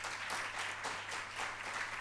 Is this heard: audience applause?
yes